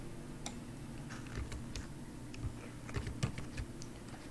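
Control-key shortcuts are pressed on a computer keyboard, producing scattered, faint, irregular key clicks with no talking.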